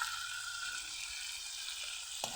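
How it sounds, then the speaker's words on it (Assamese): Local chicken meat frying in a pan gives a steady, close sizzle with an even hiss throughout, and a brief utensil clatter comes near the end. "লোকেল মুৰ্গী ভাজি আছো"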